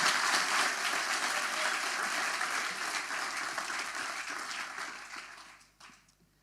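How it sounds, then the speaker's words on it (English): An audience applauding steadily, then the clapping gradually thins out and fades to near silence at the end. "Big applause for Mónica."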